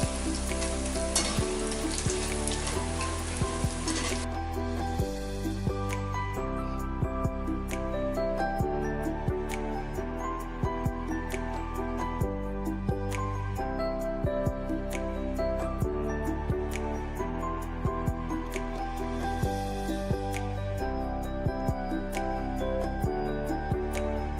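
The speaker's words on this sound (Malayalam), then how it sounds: "ഒരു ഗോൾഡൻ ബ്രൗൺ ആവുന്ന വരെ നമുക്ക് ഫ്രൈ ചെയ്യാം." Idli fries deep frying in hot oil until golden brown give a steady, dense sizzle and crackle with a few bubbling pops, continuous and close, without speech.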